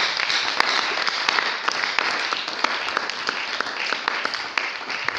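A church congregation applauds and cheers the Lord during a worship service, a steady dense wash of clapping hands that holds without a break for several seconds, with no speech over it.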